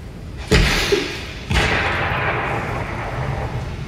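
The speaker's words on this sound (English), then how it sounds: "a selection of light-based weapons for you, which I'm going to showcase to you with the flare gun." Two loud, sharp flare gun shots from the Alan Wake video game demo, about a second apart, each a heavy blast followed by a long hissing, rumbling decay with no speech.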